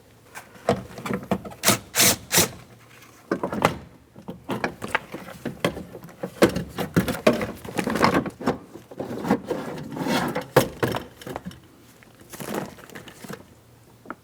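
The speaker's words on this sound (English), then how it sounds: "we can remove the entire window regulator and motor assembly through this large port" A power window regulator and motor assembly worked out through the large port of a 2003–2006 Cadillac CTS rear door, with scraping, rubbing metal and plastic, and several sharp knocks and clunks in irregular bursts, close up.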